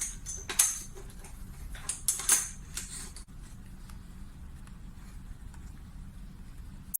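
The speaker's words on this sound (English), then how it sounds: "Just screw tight this clamp." A clamp screwed tight onto an IV stand for mounting an infusion pump gives a few close ratcheting clicks and mechanical ticks in the first three seconds, then quiet background.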